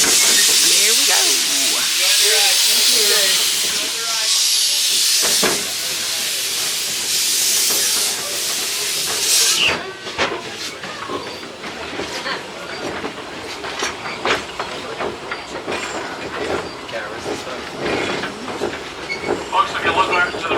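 The Cripple Creek steam locomotive hisses loudly with a burst of steam, then rolls on with rhythmic clickety-clack and clanking from the rail cars, close by and continuous.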